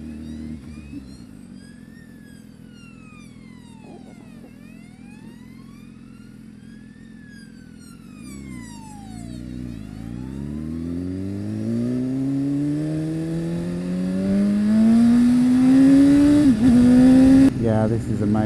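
A BMW S1000RR motorcycle engine rises steadily in pitch as the bike accelerates, growing louder toward the end, with the rider talking over the whine and a rushing wind-like background.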